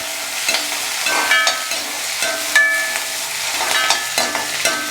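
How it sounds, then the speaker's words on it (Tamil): Small onions sautéed in a pan for tomato rice: a steady sizzle with repeated scraping and clinking of a spoon against the pan, close and fairly loud, with no voices. "அதையும் சேர்த்துட்டு நல்லா வதக்கிடலாம்"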